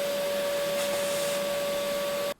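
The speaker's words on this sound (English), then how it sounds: "There's also a moth. Let's vacuum that out." A vacuum cleaner runs steadily close by, sucking a moth out of a Peavey Special 112 guitar amplifier during a refurbishment, with a constant whining tone and broad airy roar that cut off abruptly at the end.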